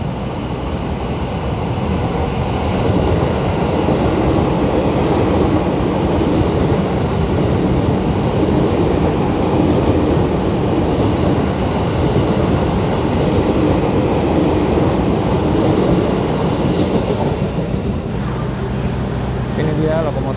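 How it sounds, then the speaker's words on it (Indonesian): An Argo Parahyangan service locomotive at the station gives a steady, loud rumble and hum that holds for the whole stretch, with a faint rail rhythm underneath and no talk. "Ini dia lokomotif Dinas Kereta Api Argo Parahyangan."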